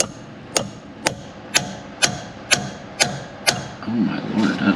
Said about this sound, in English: we give her a tappy with our 4-pound steel sledge here